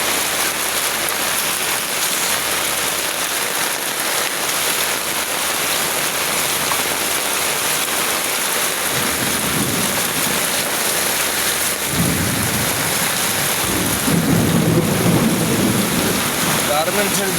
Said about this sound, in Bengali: এরকম বৃষ্টি আমি মনে হয় আর কতদিনকে দেখি নাই।